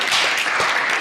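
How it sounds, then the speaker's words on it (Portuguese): A church congregation bursts into dense, steady applause, a brief wash of many hands clapping together at close range. "Vamos aplaudir o Senhor Jesus pela vida."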